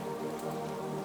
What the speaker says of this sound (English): the sound of the rain fills every corner of her small room